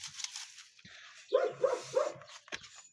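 The threshing drum of a Sampo 500 combine jams on straw and soy, letting out three sharp, bark-like knocks in quick succession over a faint mechanical background.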